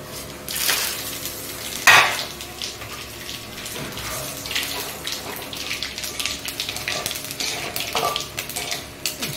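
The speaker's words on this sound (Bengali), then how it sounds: "এই মাছের তেলের মধ্যে আমি দেবো জিরে এবং কালো জিরে এবং তেজপাতা এবং শুকনো লঙ্কা।" Cumin, black cumin, bay leaf and dried chilli frying in oil left from frying fish, a soft crackling sizzle broken by sharp bursts and scraping stirs at irregular moments.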